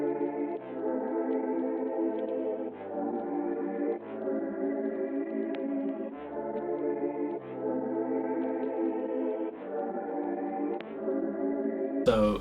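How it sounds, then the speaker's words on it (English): A dreamy, ethereal synth pad sample, lightly EQ'd and stereo-widened, plays sustained chords that change roughly every two seconds with a soft, steady swell and no other sounds. "So what we're going to start out with is a pad from Splice."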